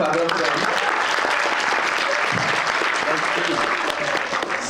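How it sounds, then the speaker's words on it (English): Audience applause for the previous comedians at a stand-up comedy show, a dense, steady wash of clapping that fills the whole stretch with little letup and no voice over it. "clap it up for them"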